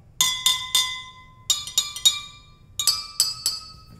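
Water-filled drinking glasses played as a homemade xylophone, struck in three quick runs of bright, ringing clinks that overlap and decay, loud and close with no talking.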